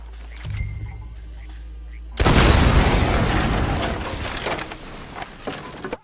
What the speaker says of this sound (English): Personally, I prefer to shoot dynamite.